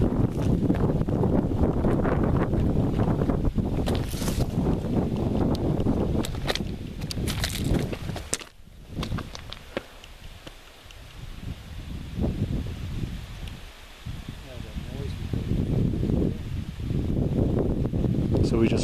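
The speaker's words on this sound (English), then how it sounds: "I know it's windy," Wind gusts rush and buffet the microphone outdoors on a hike in the Selkirk Range, loud at first, easing in the middle, then rising again, with rustling and someone talking over it.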